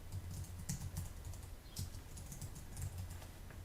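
Faint, scattered keystrokes from someone typing on a computer keyboard while filling in a form on the SciServer website, sitting under a steady low background hiss.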